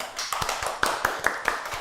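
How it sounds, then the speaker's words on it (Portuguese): A few scattered hand claps at a studio talk show about hair diseases, sharp and close, spaced out in a loose rhythm rather than full applause. "Uma salva de palmas"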